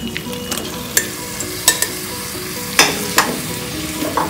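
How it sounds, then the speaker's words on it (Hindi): Mashed boiled vegetables being stirred into pav bhaji in a pan: a continuous sizzle punctuated by sharp, separate spoon scrapes and taps against the pan, close by, with no voices. "अब हम इसमें हमारी बॉइल्ड वेजिटेबल डालेंगे मैश करके"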